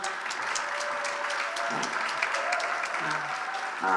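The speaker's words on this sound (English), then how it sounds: "Let's give her another round of applause" An audience applauds Attorney General Tish James at a gathering of African American clergy and elected officials, a steady dense wash of clapping throughout, moderately quiet, with a voice faintly audible at the end.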